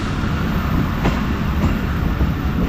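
Train rolling through Shahdara Junction railway station, a steady loud rumble and rattle of carriages on track with faint clicks, continuous and close.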